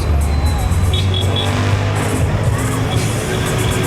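Road traffic near Baltimore Mall rumbles steadily close by, with car engines humming and vehicles passing under a constant noisy wash.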